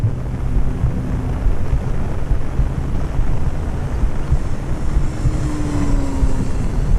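An RC T-28 Trojan model airplane flying at full throttle, its engine drone steady and fairly loud across the whole stretch, mixed with wind noise buffeting the microphone.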